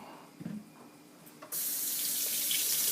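Kitchen tap water running over cucumbers being rinsed for dill pickles: after a quiet start with a brief clatter, the tap gushes on abruptly and keeps up a loud, steady, close rush to the end.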